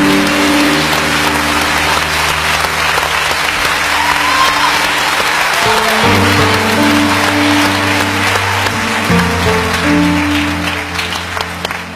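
Steady, dense applause from a television studio audience fills the whole stretch, loud and continuous with a sustained music-like tonal bed underneath, clapping holding without a break until it eases slightly at the end.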